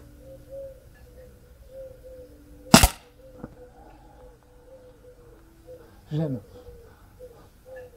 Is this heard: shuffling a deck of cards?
no